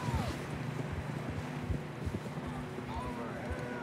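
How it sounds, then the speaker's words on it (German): Rapid hoofbeats of a galloping horse in the video game Red Dead Redemption 2 pound steadily under rushing wind, with a voice talking faintly over the galloping. "in was für einem Speed das Pferd da hochfeuert"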